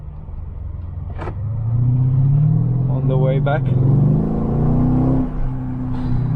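A Mercedes-Benz E500 Coupe 5.5 V8 engine rumbles and builds as it revs through a turn, steady and close, with someone talking over it.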